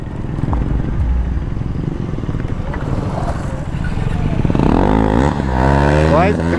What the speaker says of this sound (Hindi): त्रिपाठी मारने वाला बर्न आउट।